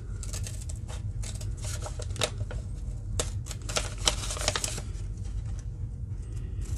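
Scissors snip through paper again and again, cutting out a small seed-packet envelope. The crisp, close cuts come in quick irregular bursts over a low background hum.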